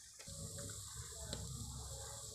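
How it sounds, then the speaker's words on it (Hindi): Soaked rice tipped into a pot of boiling water for village-style rice kheer, giving a steady watery rush and bubbling with a couple of small clinks, close by and without talk. "ये मेरे पानी में उबाल आ गया है तो मैं पानी में ये चावल डालूँगी।"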